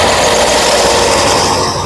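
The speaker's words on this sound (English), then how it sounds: "Now let's go over here to the sander." Loud, constant whirring buzz of a power sander sanding wood right up close, steady and unbroken for the whole moment.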